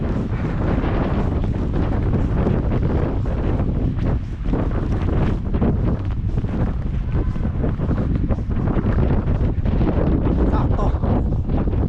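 Strong gusty wind during snowfall outside a Walmart in Canada, at about -6 feel-like temperature, roars steadily and loudly into the microphone for the whole stretch, with broad rumbling buffeting and no clear break.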